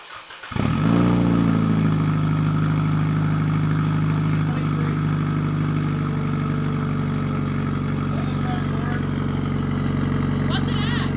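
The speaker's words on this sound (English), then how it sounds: "we're gonna see cold start, how it sounds" A Mazda Miata fitted with an SR20 engine cranks briefly and catches on a cold start, then settles into a loud, steady, close-up idle that holds without pause, with faint voices occasionally audible beneath it.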